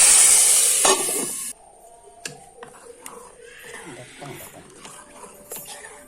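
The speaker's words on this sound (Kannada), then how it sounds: "ಈಗ ಒಗ್ಗರಣೆ" Spice tempering for a potato and pea gassi curry hits hot oil with a sharp, loud hiss lasting about a second and a half, then settles into faint crackling while a person talks.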